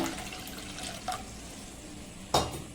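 Water poured into a cup for making Bombay halwa, a soft running trickle in the background with two brief splashy bursts, close and short, no talking.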